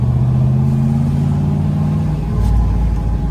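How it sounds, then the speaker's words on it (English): A 1970 Chevrolet Chevelle SS engine drones steadily under load while driving, a loud, close, low rumble whose pitch dips briefly as if between gears, with no talking. "As we're going through all the gears, we're shifting nice and smooth"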